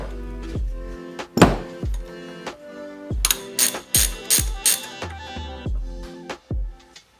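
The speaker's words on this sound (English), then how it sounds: "Next, we're going to take a T47." A hand ratchet fitted with a T47 bit loosens a bolt during an aux switch lighting install, giving a close series of sharp metallic clicks and clacks in uneven bursts, with a few heavier knocks and no talking.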